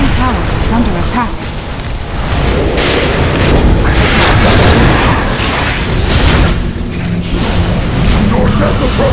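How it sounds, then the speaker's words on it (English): Dota 2 match with Radiant's middle tower under attack: a dense, loud barrage of booming impacts and clashing combat effects running steadily throughout, with speech-like voice lines mixed in. "Radiant's middle tower is under attack."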